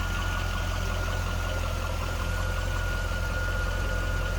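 A steady, low rumbling stock 5.7 liter V8 engine of a 2003 Chevrolet Corvette 50th Anniversary Coupe idling close by, a constant deep throb with no voices over it.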